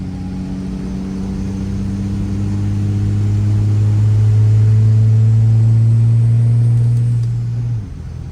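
A pickup truck engine runs in overdrive on tune 2, a steady close rumbling drone that swells gradually louder in the middle before easing back and dropping off near the end, with no voices.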